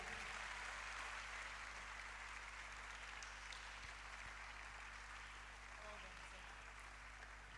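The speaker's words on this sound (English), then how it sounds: "Please keep clapping till he gets here." Sustained audience applause at a national convention as a keynote speaker comes forward to receive an award, a dense clapping wash that slowly tapers, heard from some distance.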